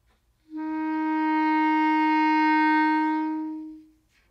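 A single sustained clarinet F, steady and clear, held for about three seconds before fading out, played alone in a quiet room.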